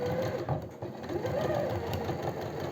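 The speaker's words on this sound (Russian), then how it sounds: "Вот, устанавливаю и даю строчку." A sewing machine runs a steady, continuous stitch along a wide skirt hem with a 4 mm stitch length, its even motor hum and needle rhythm close and constant throughout.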